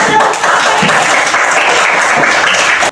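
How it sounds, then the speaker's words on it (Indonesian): A classroom group claps for themselves in a steady, close round of applause lasting a few seconds before it stops abruptly. "Tepuk tangan untuk diri sendiri."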